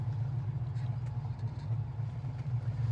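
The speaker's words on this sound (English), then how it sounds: "just the engine, transmission, exhaust sound just going down the road" A 1970 Chevrolet Camaro Z28 engine hums steadily with low exhaust rumble while driving, a constant drone with faint road noise throughout and no talking.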